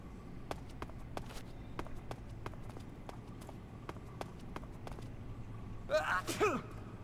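Guard Johnny in Metal Gear Solid 3 lets out a short, nasal sneeze near the end, over steady footstep-like clicks and a low background hum.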